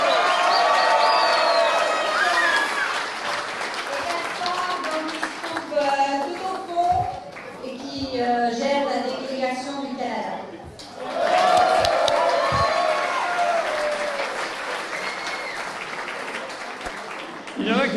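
A crowd at a political party's anniversary rally in London applauds the delegates. Bursts of clapping and cheering swell at the start and again midway, with someone speaking into a microphone between and over them.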